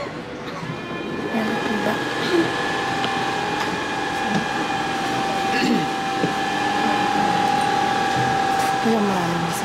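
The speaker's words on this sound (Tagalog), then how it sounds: "Sakay na ako ng train." A metro train ride, with a continuous rumbling hum of the carriage, tonal motor whine and faint squeals, under nearby conversation.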